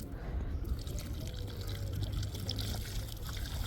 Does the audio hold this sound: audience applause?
no